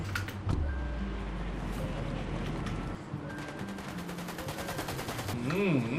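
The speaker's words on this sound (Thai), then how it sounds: "เขายิงกันแล้วว่ะเยิงกันแล้วว่ะเขามีปืนกันแล้ว" Fortnite gameplay with rapid bursts of gunfire and machine-gun rattle amid game effects and music, while a player talks excitedly over it.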